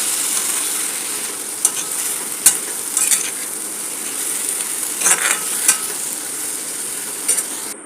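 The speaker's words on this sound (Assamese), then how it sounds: "ইয়াত আন্দাজমতে নিমখ আৰু হালধি দি ল'ম। এইখিনি ধুনীয়াকৈ লৰাই ল'ম।" Greens being stirred with salt and turmeric in a pan for a roselle leaf chutney, giving a steady close sizzle with scattered sharp scraping clicks of the spoon, with no voices.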